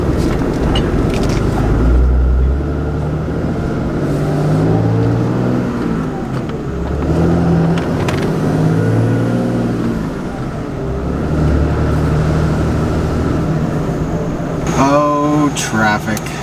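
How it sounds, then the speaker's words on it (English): Road traffic rolls past continuously with engine drone and swelling pass-bys, mixed with nearby talking, and a brief rising whine near the end. "Traffic."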